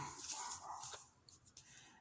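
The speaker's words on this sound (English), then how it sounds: "I don't know what she's barking at" A dog barks several times at moderate distance, the barks fairly faint against a hissy, noisy background.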